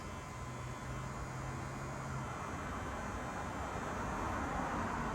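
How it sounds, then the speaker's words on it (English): The brake system of a Jaguar XJS pressurizes, a low steady motor drone for about two seconds before cutting out, leaving an even wash of background noise. "Hearing the brake pressurize."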